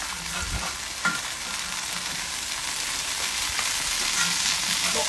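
Lamb smash burgers fry in a hot pan, rendering plenty of fat, with a steady dense sizzle and crackle throughout and a couple of brief spatula knocks.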